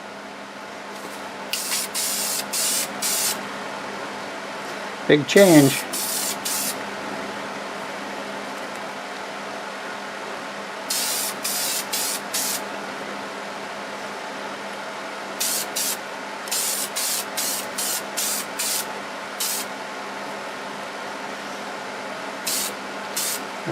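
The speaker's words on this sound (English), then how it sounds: "I'll use Deft lacquer. I'll spray on probably 3 coats," Bursts of spray from a spray gun applying Deft lacquer finish to a turned wood piece, several short hissing passes of about a second each with pauses between, fairly close, plus one brief clatter and a few words spoken.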